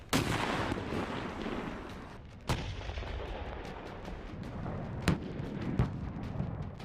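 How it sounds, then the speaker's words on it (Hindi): Gunfire and the rumble of tanks in a war zone in Iraq and Syria: a continuous heavy roar broken by several sharp, cracking shots at irregular intervals. "तो तड़तड़ाती हुई बंदूकों से छिटकती गोलियां, और अगर कुछ सुनाई देता है तो आग उगलते टैंकों की गड़गड़ाहट।"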